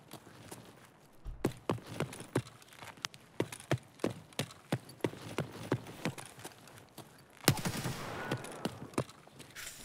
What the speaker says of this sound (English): Getting shot at by a guy with a suppressor as well